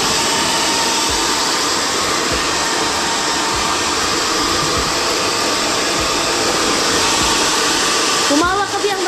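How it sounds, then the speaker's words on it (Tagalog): A hair dryer blows thick hair with a loud, steady roar throughout, its airflow constant and close, shifting slightly near the end. "Kay Bia, hindi pa tapos pag-blower kasi makapal yung buhok niya"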